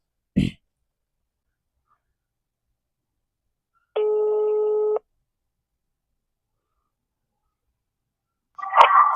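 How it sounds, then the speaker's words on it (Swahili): An outgoing telephone call rings once as a steady electronic tone lasting about a second, set in near silence between a short click at the start and a brief noise burst at the end. "Bana simu inaita."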